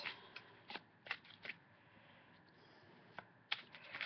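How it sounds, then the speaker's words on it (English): A Healing Fairies oracle card deck being shuffled by hand, quiet papery riffles and taps arriving in irregular short bursts against near silence. "This is the Healing Fairies deck I'm shuffling now for the YouTube community"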